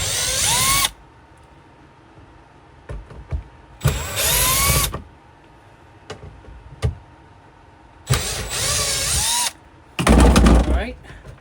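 A power drill removes the speaker screws from factory pods on a Polaris General, with four loud, close whirring bursts separated by quiet gaps, small clicks and handling noises.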